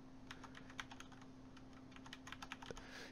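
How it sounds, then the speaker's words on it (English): Keys clatter on a computer keyboard as an IP address is entered while setting up a Raspberry Pi, the taps irregular and fairly close over a steady low hum, with no speech. "type in the IP address."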